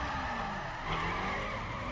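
A car in the racing video game The Crew drifts with a sustained, loud tyre screech and skid over engine noise, running unbroken throughout.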